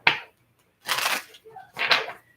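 Three quick riffling bursts of a deck of tarot cards being shuffled during a reading, close by, separated by short pauses.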